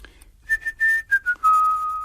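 A man whistles a short tune nearby, clear and alone, starting with a few brief notes and then holding longer steady tones that step down in pitch.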